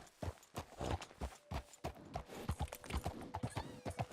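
Horse hooves clip-clop at a steady walking rhythm in Red Dead Redemption 2, the mare's footfalls close and distinct with no talk over them.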